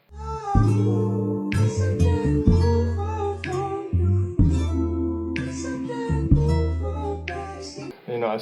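A warm, layered soul music sample for boom bap, with rich harmonies and chopped sections, playing loud and alone.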